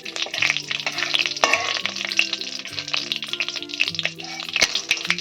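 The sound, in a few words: frying dried red chillies in oil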